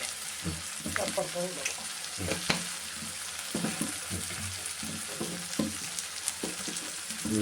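Dried shredded beef thoran with pepper powder and garam masala being stirred in a pan, irregular scraping and stirring knocks over a steady sizzling fry, close and moderately loud, with faint voice-like tones in the background.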